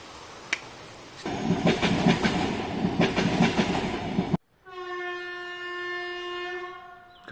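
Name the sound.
train passing and stopping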